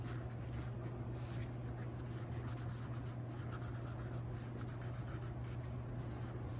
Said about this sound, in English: So, I'll draw the circuit in here.